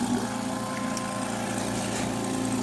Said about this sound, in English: Kind of have to have the compressor going.